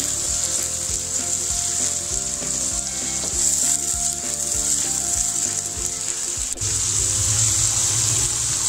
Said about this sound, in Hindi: 2 से 3 मिनट तक मैं इसको फ्राई करूंगी